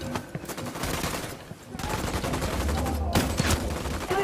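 Squad gunfire from the Ghost Recon Wildlands video game, with dense, sustained bursts of automatic weapons fire that crackle continuously and loudly, with brief lulls between volleys and faint game voices underneath.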